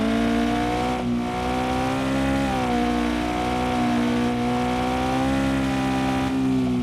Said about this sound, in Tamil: டிடிஐ கஸ் டீசல் இன்ஜின் நைஸ்.